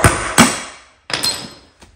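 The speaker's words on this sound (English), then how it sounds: "so I'm gonna take this bushing out of here." Two sharp metal hammer blows knock at a worn bushing in a John Deere D130 lawn tractor wheel, each strike ringing briefly before fading, followed by a lighter tap at the end.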